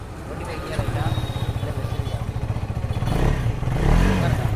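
A KTM motorcycle engine putters in a rapid steady rhythm, then swells louder as it revs, with faint voices in the background.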